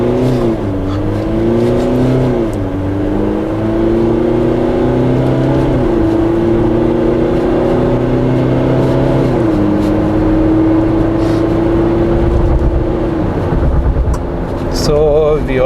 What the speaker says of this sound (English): we can see the acceleration of this vehicle. Now we are in a sports mode